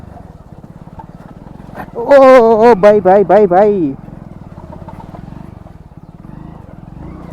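A motorcycle engine rumbles steadily throughout while riding on a rough road, and someone shouts loudly over it for a couple of seconds midway.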